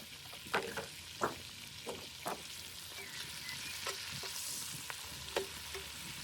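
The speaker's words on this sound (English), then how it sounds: "I'm going to let all that brown up and cook down for a couple of minutes" Bacon lardons and onion browning in a pan over a campfire, a soft steady sizzle broken by several distinct scraping strokes of a utensil stirring, fairly quiet and outdoors.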